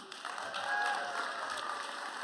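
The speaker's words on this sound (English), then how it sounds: "Round of applause right off the bat." Audience applause at a lecture event, a continuous wash of clapping from a large room, moderately loud and even throughout, with no talking.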